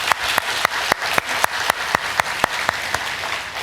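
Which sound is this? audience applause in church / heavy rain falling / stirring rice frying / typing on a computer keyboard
audience applause in church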